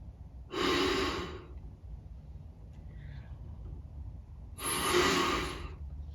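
Rescue breaths delivered during a CPR demonstration in basic life support training: two strong, airy breath bursts about four seconds apart, close and clear over a low steady background hum.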